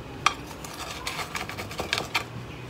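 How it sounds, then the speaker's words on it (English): Gritty scraping and crunching of coarse pumice granules as a trident maple bonsai is pried from its pot, with a few sharp clicks and rustles, close up and fairly quiet, no voices. "it's the noise of the pumice"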